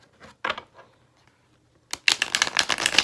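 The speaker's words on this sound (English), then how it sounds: "I'm going to shuffle that again" A few soft flicks of tarot cards, a pause, then a rapid burst of riffling cards shuffled close up, crisp and quick.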